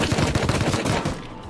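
Rapid gunfire in Rust during an oil rig fight, a short flurry of muffled shots rattling close together before trailing off.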